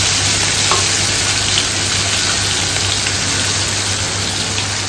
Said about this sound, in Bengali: আর এক পাশে মাছ ভাজা